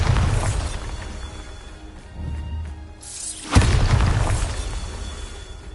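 A Bombarda blasting spell cast in Hogwarts Legacy, with a whooshing build-up and then a single loud booming explosion with a shattering crash that fades out over a few seconds, following other game effects.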